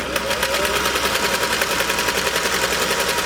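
A Singer sewing machine with a top hat cam runs steadily, producing a loud, fast, continuous rattling clatter of stitching at close range without pause.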